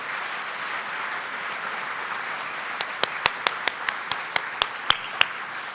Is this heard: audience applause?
yes